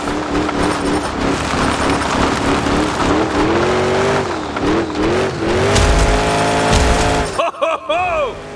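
Monster truck engine in the video game Monster Jam Showdown, a loud continuous roar with rising and falling revs and tire noise, ending with a few sharp pitch swoops as the truck lands or skids.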